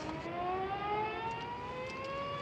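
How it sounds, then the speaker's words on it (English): A steady, droning siren atop a ferry building wails at a distance, its pitch slowly rising over a few seconds, with no voices. "The siren on top of the ferry building. Blows 3 times a day, just like now."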